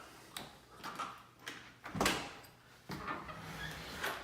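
An elevator door is unlocked with a key and slid open, with small metallic clicks and scraping followed by a louder rattling slide, then quieter mechanical shuffling.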